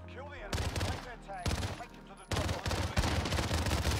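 Akimbo burst pistols fire in a video game, with three loud, close clusters of rapid shots, each a tight rattling volley separated by short pauses.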